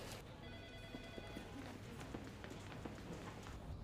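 In a law office, a phone ringtone chimes faintly for about a second with soft footsteps and background bustle around it.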